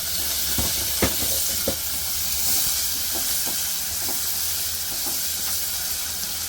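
Chopped onions and garlic fry in a pan, giving a loud, steady sizzling hiss broken by a few sharp clicks and scrapes of stirring, with no talking.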